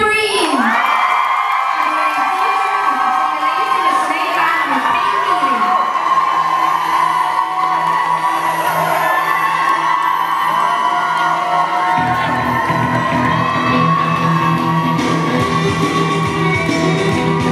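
Crowd at the World Open Irish Dancing Championship awards ceremony cheering for the winners, with loud shouting, whoops and children's excited voices sustained throughout and the noise thickening toward the end.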